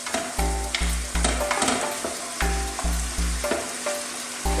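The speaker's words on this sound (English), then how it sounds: "now let's go in with our minced beef. Chop that down. Let's give this a very rough little mix." Minced beef sizzles loudly in a pan while being chopped and stirred, with repeated knocks and scrapes of the utensil against the pan in an uneven rhythm.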